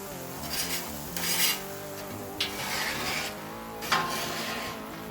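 Metal scraper dragged across a Blackstone flat-top griddle while cooking smash burgers, giving several rasping, clanking strokes with sharp metallic hits, heard up close over a steady background of sizzle and kitchen noise.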